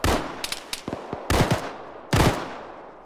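Military game gunfire during a ShackTac session: a few scattered close shots, then two loud bursts of rifle fire with echoing tails, spaced over a few seconds, no talking.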